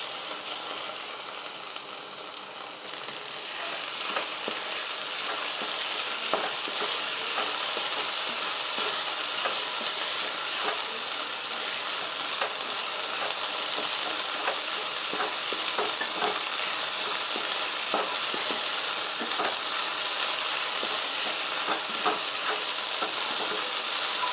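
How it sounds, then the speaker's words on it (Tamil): Steady loud sizzling of okra frying in a pan, with occasional light stirring scrapes throughout, no voices. "இப்போ நம்ம வதக்கி வச்சுருக்க வெண்டைக்காயை சேர்த்துக்கலாம்"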